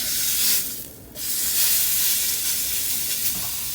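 Pork pieces sear in hot oil in a pan, giving a loud, steady sizzle and hiss that briefly dips before surging back and continuing evenly.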